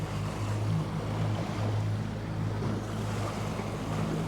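A small fishing boat trolls lures through surface-feeding fish on open water, its low steady engine drone running continuously beneath wind buffeting and splashing water, with no talking.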